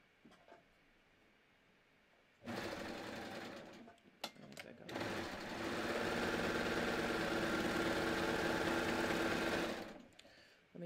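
A sewing machine runs close and loud, stitching a knit tee shirt neckband folded into a circle, with a short burst and then a long continuous run of rapid stitching.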